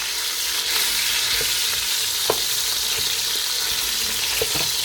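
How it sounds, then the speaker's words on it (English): Steady, close sizzling of food frying in olive oil in a pan, with a few faint scrapes and taps of a big spatula stirring through it. "we got some sizzle going on"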